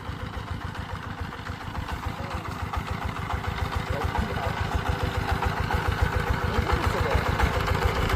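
A power tiller engine chugs with a rapid, steady thumping in a rural village setting in Kushtia, growing slightly louder as it goes.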